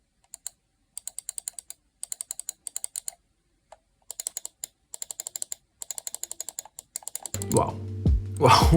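Bursts of crisp, light key clicks typed in quick rhythmic runs with short pauses, close up, followed by a louder low rumble and handling noise at the end.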